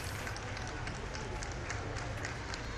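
A large crowd applauds at Pope Francis's funeral procession, a dense, steady wash of clapping and murmuring that holds at an even level from start to finish.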